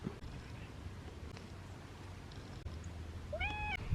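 A cat meows once near the end in a garden, a short rising call over quiet outdoor background noise, fairly close.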